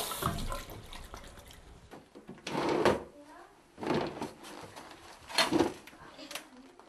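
A drawer in a child's emptied-out room is pulled open and pushed shut, giving several separate sliding thumps spaced a second or so apart, mixed in with voices talking nearby.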